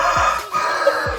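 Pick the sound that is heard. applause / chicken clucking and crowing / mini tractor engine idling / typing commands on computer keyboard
chicken clucking and crowing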